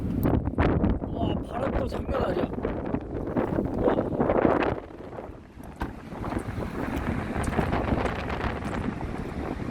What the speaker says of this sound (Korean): 와 바람이 장난이 아니에요